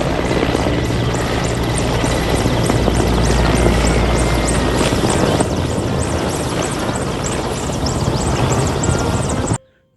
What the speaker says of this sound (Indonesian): ada mainan helikopter militer